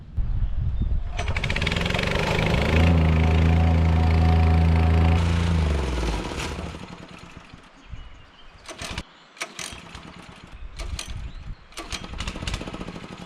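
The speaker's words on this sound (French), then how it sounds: "La plaque vibrante, ou dameuse, se coupe toutes les 30 secondes" A vibrating plate compactor engine runs loud and steady with a strong pulsing drone for about five seconds, then the motor cuts out, leaving scattered knocks and rattles.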